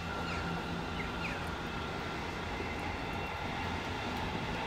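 A train accelerating across the Forth Rail Bridge at Dalmeny gives a steady, loud, continuous rumble with a roaring broadband wash throughout, no voices.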